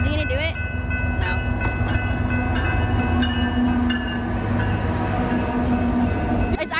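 A train rumbles past nearby with rhythmic clatter, sounding its horn in several long blasts.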